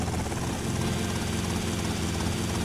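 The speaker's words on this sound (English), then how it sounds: "Oh, my helicopter's still here." A steady, loud helicopter rotor drone with engine roar in Grand Theft Auto: Vice City, continuous throughout without pauses, no voices.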